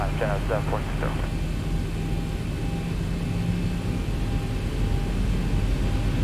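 Twin jet engines of a Zibo Boeing 737-800 in the X-Plane flight simulator, spooled up to thrust for takeoff from Philadelphia: a steady, loud broadband roar throughout, with a voice talking briefly at the start.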